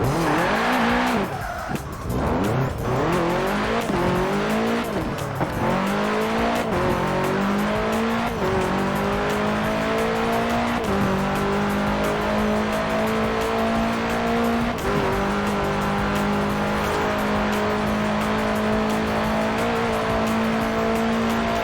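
A 1966 Volkswagen Beetle fitted with a 2.5-liter flat-four turbo engine racing in Forza Horizon 4, loud continuous engine roar climbing through the revs with tire squeal and skidding throughout.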